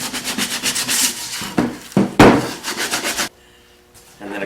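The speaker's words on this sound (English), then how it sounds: "And now we'll sand the hard edges." Hand sanding the hard edges of a wooden triangle shelf, with several short, close scraping rubs in uneven strokes, a sharper knock partway through, then a brief quiet gap before the rubbing resumes.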